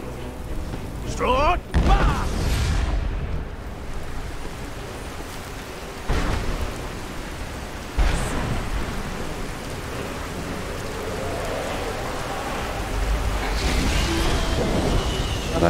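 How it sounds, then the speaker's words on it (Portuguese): Rain and thunder from a summoned thunderstorm spell in Skyrim. Steady rainfall runs throughout, with several loud thunder cracks and rumbles spaced across it and a voice speaking over the storm. "Vou invocar aqui uma tempestade."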